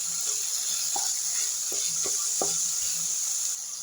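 Chopped garlic and tomato sizzle in hot oil for a homemade pizza sauce. A steady, close frying hiss runs throughout, with a few soft stirring clicks and no talk.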